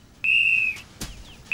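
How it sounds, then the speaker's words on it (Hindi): A whistle is blown in short shrill blasts: one sustained piercing tone, a gap with a faint click, then another blast starting at the end, clear and close with no voices. "सुन रहे हो दोस्तों, मैं सीटी बजा रहा हूँ।"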